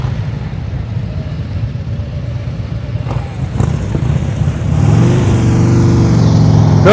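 During slow-speed motorcycle riding practice, an engine idles low with a few knocks, then revs up and holds a higher drone near the end, close and loud with no talking.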